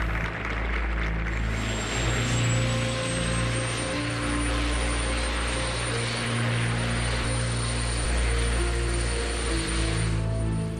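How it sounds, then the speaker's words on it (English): A helicopter lifts off nearby with a loud, continuous engine roar and steady rotor drone, and a high turbine whine that climbs slightly in pitch as it rises, filling the whole stretch without any voices. "As the helicopter began to rise"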